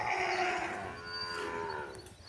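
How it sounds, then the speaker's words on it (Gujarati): A calf moos once in a long, drawn-out call, close and clear, with no talking. "વાસરું ભાંભરે છે જો"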